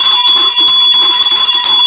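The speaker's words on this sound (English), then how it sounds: "Ring the bell." A bell rings loud and close in a sustained metallic tone, held steadily for about two seconds with no voices.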